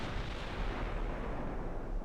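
Battleship guns fire in the naval game Ultimate Admiral: Dreadnoughts, a continuous heavy rumble of distant cannon blasts and shell impacts rolling together without a break, dense and low, with no talk over it.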